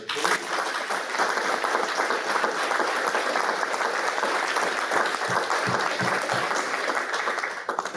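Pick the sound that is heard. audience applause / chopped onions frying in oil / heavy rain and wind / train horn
audience applause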